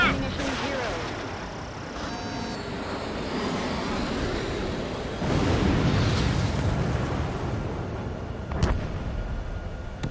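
Missile fire and explosions in a PS4 air-combat game: a roaring jet engine rumble with booming blasts and a sharp crack near the end, under a voice calling out.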